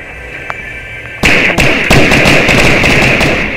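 A loot chest opens in Fortnite with a sudden bright shimmering burst that rings on steadily. A few sharp thumping taps come before it and punctuate it.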